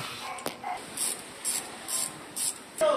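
A car's disconnected turbo-to-intercooler hose lets air escape in short, repeated hissing bursts, about four evenly spaced puffs close by, with a few sharp clicks between them.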